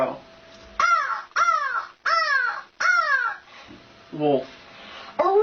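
A girl mimics a crow with a run of four loud, harsh caws in steady rhythm, then a couple more rougher calls, close and alone.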